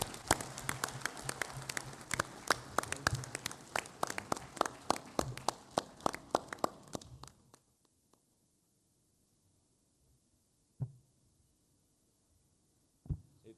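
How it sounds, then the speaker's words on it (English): Audience applause for a Prime Minister at a football confederation general assembly, a dense burst of clapping for about seven seconds that stops abruptly, followed by near silence with a couple of isolated thumps. "Can we all clap hands to our Prime Minister"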